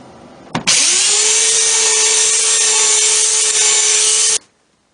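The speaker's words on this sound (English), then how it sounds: "I use a belt sander with a 120 grit sanding belt to sand the desktop smooth, especially the seams between the boards." A belt sander fitted with a 120 grit belt runs across a lumber desktop, giving a loud, continuous abrasive whine that starts abruptly and holds steady for about four seconds before cutting off.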